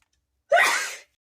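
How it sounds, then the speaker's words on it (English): A single sharp, close sneeze bursts out of silence and fades within half a second. "Had to sneeze"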